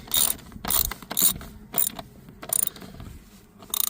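A small black Torx 20 bolt is driven through the plastic trim panel of a Dodge Grand Caravan driver seat, with repeated short ratcheting bursts separated by brief pauses, close and crisp.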